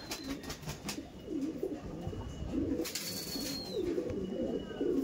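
Pigeons coo close by in steady, repeated low throaty calls, with faint background birdsong and ambient noise.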